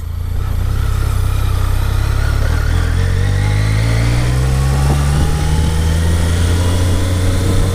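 A BMW K75S motorcycle, revived after sitting unused for ten years, pulls away in first gear, its engine note rising steadily and loud and close, with no talk over it.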